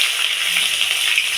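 Chopped onions frying in hot oil with cumin seeds and bay leaves for a fish curry, giving a steady, close sizzle that holds level throughout, with no voices.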